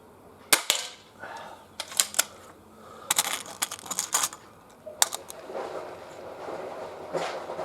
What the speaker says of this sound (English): Really has got a very reasonable amount of clout, this pistol.